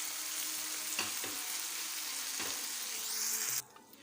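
Onions and tomatoes with spices and black pepper being mixed in a pan for an omelette, a steady sizzle broken by a few stirring scrapes that cuts off abruptly near the end, with no speech.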